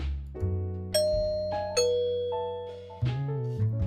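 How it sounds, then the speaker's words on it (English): A doorbell in the visual novel Memory's Dogma rings out a melodic chime of several bright, ringing notes that strike one after another and decay slowly, clear and resonant with no voices. "The sound of the doorbell echoes loudly as I ring it."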